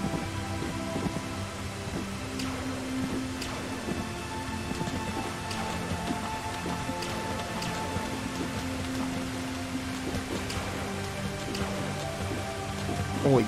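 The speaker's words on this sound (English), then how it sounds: "Holy crap, that's some heavy rain." Heavy rain pours down in the video game Dig or Die, a dense, steady hiss with scattered drop patter that holds at an even level throughout, over a faint sustained tonal background.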